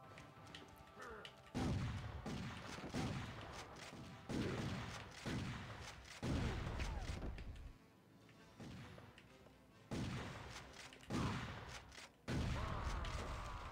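Repeated grenade explosions in the video game Turok Evolution, heavy thudding blasts arriving in a rapid irregular series with crashing debris, loud and close over about fourteen seconds.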